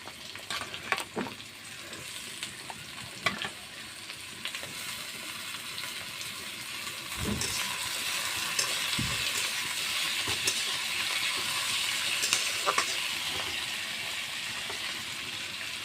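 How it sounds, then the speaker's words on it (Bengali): Medium-cut potatoes frying in a pan, a steady sizzle that swells after they go in, with scraping stirs and a few low knocks of utensils against the pan. "এখন আমি আলুগুলো দিয়ে দেব।"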